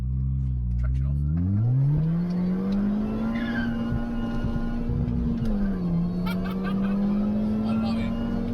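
A Vauxhall Cavalier engine revs up and holds a steady droning note while driving on a rough road, close and loud, dipping briefly before climbing again, with road rumble underneath.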